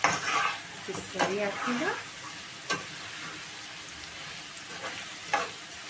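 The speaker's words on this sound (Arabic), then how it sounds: "ننزل بالفلفل ونقلب تقلبتين" Peppers stirred into onions frying in a pan give a moderate sizzle with a few scraping stirs of a utensil against the pan, while someone speaks briefly early on.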